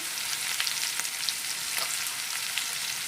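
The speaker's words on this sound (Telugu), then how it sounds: "ఫస్ట్ ఉల్లిపాయలు మగ్గటానికి వేస్తున్నాను" Onions, green chillies and curry leaves fry in hot oil in a pan, giving a steady, close sizzle that carries on without a break, with a few faint crackles and no talking.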